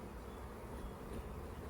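Honey bees buzz around an open hive in a dense, steady drone, close and continuous throughout with no voices.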